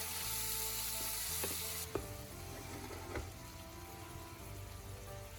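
Mushrooms sauté in a pan until lightly browned, a soft steady sizzle with a few scraping stirs and light clinks partway through, quiet and close, with no speech.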